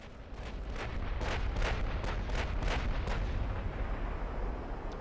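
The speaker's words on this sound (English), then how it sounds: "Big salvo against the battleship." Battleship big guns fire a salvo in the Ultimate Admiral: Dreadnoughts naval game, a steady roaring barrage of overlapping heavy booms with sharper blasts breaking through, dense and continuous for several seconds with no talk.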